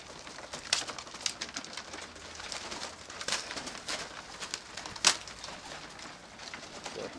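Soft cooing of tippler pigeons and rustling wing flutters fill a loft, with a few sharper flaps and scuffs standing out over a steady murmur of birds.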